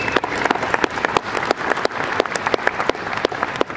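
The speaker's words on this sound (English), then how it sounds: "if you could just help me with a round of applause" Audience applause at a Ford Performance press conference at the SEMA show in 2015, a steady rattle of many hands clapping at moderate distance with no talking over it.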